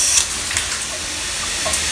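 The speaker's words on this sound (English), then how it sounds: "Get that spray stream there" Water spraying from a Delta In2ition two-in-one shower head, a steady broad hiss that holds evenly for a couple of seconds, close and without talk.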